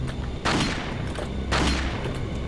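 Two heavy shotgun blasts in Resident Evil 4, each a sharp boom with a short decaying tail, spaced about a second apart and loud against quiet game ambience.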